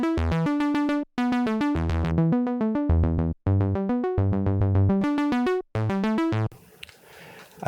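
Arturia CS80 synthesizer arpeggiator run in serial through the Arturia Pre-Treater effect, a fast, steady stream of bright plucked notes in rhythmic bursts with short gaps, loud and alone, ending in a brief noisy tail.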